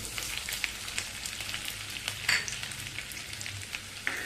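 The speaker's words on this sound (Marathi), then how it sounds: "त्याच्यामध्ये आपण चिरून घेतलेला लसूण घालूया" Chopped garlic sizzling in hot oil with cumin seeds, a steady crackling fry with a few sharper pops, close and moderately quiet, with no voices.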